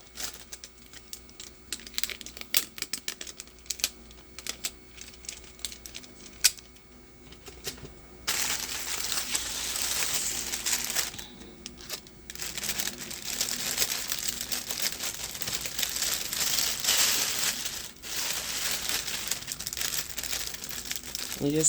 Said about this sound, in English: And you just tape your bag like this.